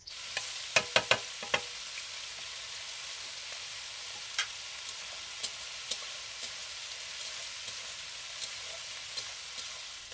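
Bay leaves and onions frying in a pan, a steady soft sizzle with a few sharp crackles and pops early on, then sparse faint pops, with no talking.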